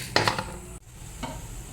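Cumin and coriander seeds frying in a pan, a short burst of crackle and stirring scrapes that briefly cuts out, then a softer stir, close and without talk.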